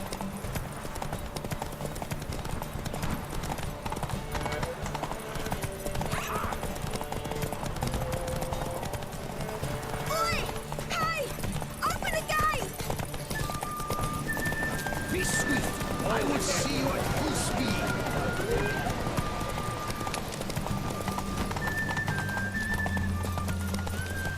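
The horse Roach gallops in The Witcher 3, its steady clip-clop hoofbeats close and continuous under layered game music, with a voice urging the horse on over the hooves.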